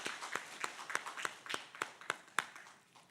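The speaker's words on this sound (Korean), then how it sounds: "인사드릴 때 박수로 환송해 주시기 바랍니다" A church congregation claps to send off a departing pastor, single distinct claps landing in an even beat about three per second, faint and distant.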